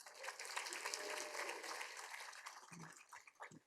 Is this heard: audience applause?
yes